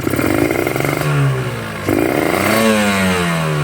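A two-stroke motorcycle with a rich (wet) carburetor setting, sputtering and heavy at low revs, is revved up and down in two close bursts, its loud buzzing engine note rising and falling.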